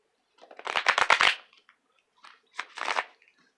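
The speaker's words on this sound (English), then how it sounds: "Just going to do a couple shuffles" Two quick bursts of tarot cards being shuffled, a crisp riffling flutter followed by a softer second riffle, close up with no voices.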